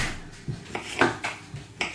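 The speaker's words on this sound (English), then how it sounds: "I'm still chopping cucumber, tomatoes." Knife chopping cucumber and tomatoes on a board for a Greek salad in a home kitchen, giving about five sharp, fairly quiet thuds in an uneven rhythm with no talk.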